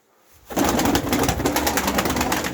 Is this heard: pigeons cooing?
yes